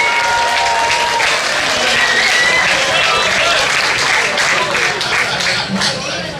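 A gala audience gives loud, sustained applause for a carnival band, a thick, close wash of clapping with cheering voices mixed in.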